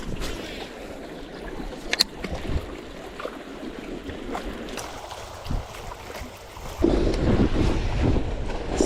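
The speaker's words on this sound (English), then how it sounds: "It's a little bit windy." Wind gusting across a fishing boat at sea, steady low rumble with scattered knocks and splashes, growing noticeably louder and rougher in the final seconds.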